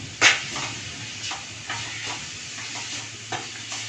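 A spoon stirs ground spice powder, cardamom and cumin into a mixture in a pan for traditional chakka ada, giving one sharp scrape followed by softer, irregular stirring strokes over a faint background hiss.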